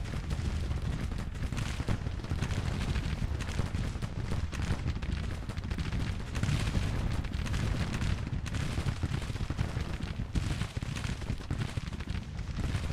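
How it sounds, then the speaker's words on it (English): Dense, continuous musket and cannon fire rolls through a loud Civil War battle in Grand Tactician, a steady roar of overlapping shots with no pauses and no voices. "This is one loud battle. Everybody's firing."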